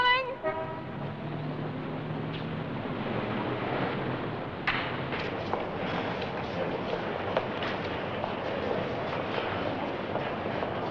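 A passenger train runs along the rails, a steady rumbling roar with faint clicks and a brief horn-like tone at the start, heard under soft background sound.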